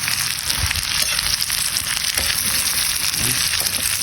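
Chili peppers sizzle and crackle in a hot pan with a dense, steady frying hiss close up, punctuated by small pops and stirring scrapes.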